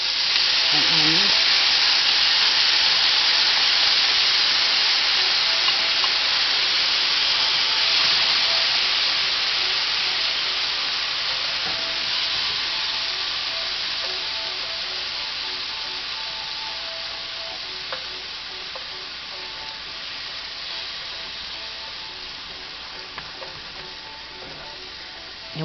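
Peppers and onions for sausage, peppers and onions sizzle steadily in a hot pan, a dense continuous hiss that eases slightly over time, with no talking.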